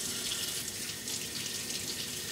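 Warm water runs steadily from a kitchen tap for hand washing, a close, continuous splashing stream into the sink with no voices.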